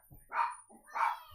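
A dog named Chloe gives two short, fairly soft barks about half a second apart in a quiet indoor room.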